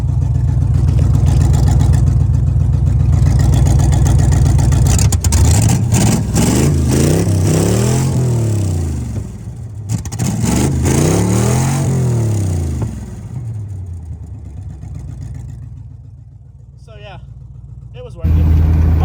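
A 2004 GMC truck with long tube headers bolted on without gaskets revs hard, its loud engine rising and falling in repeated sweeps, then settling toward a rough idle.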